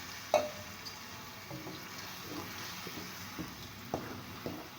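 Tomato paste fries in oil and masala over a flame for a kofta curry, a soft, low sizzle broken by faint stirring clicks and scrapes against the pot.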